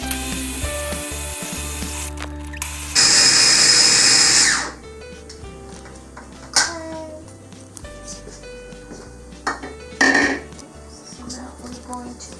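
A kitchen blender roars loudly for a couple of seconds on chop and then cuts out, followed later by a short whirring burst as it grinds green ingredients, with talking and clatter in between.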